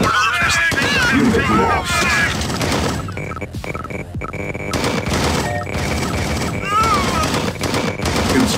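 Gunfire and explosions from a real-time strategy battle in a 2v2 match, dense bursts of rapid shots and booms running throughout, with unit voice lines and radio chatter mixed in.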